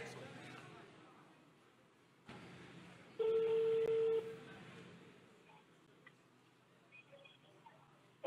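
A phone call rings out as a tone that holds for about a second, heard faintly against a quiet room with low background murmur.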